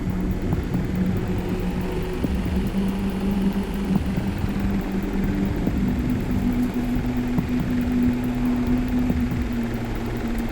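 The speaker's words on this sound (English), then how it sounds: "Deploying drone." Drone deployed in the Ghost Recon Future Soldier video game, a steady droning engine hum with a sustained whine holding throughout, continuous and fairly loud, no speech.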